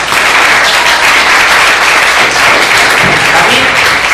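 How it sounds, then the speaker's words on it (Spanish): An audience applauds loudly and continuously at the close of a Mexican philosophy panel discussion, with dense steady clapping filling the room and a faint voice underneath. "Un aplauso, por favor, a René."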